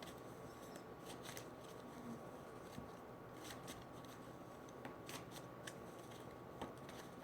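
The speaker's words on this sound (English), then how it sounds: "Shuffle up these cards really good." Soft riffling and shuffling of tarot cards, quiet and close, with light papery flicks and brief taps over a faint background hum.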